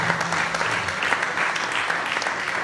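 Conference audience applauding, a steady dense patter of many hands clapping close and loud for the whole stretch, with no voices on top.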